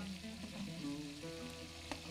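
Spices frying in a cooking pot for a chicken curry: soft continuous sizzle, fairly quiet and close, with a brief clink near the end.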